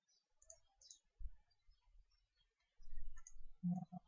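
A computer mouse clicks quietly in Excel, giving a few scattered, soft clicks with dull low thumps and a denser cluster toward the end, with no talking.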